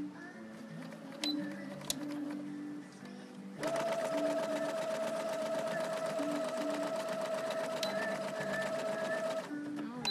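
A sewing machine stitches a cherry-print jacket for a Blythe doll, humming steadily at a moderate distance, then running faster and louder from about a third of the way in until near the end.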